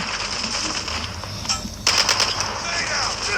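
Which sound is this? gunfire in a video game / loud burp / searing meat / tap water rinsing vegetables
gunfire in a video game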